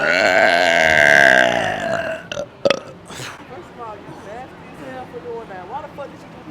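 A loud, long burp let out in public opens the clip, a deep drawn-out belch, followed by a short noise and then people talking casually.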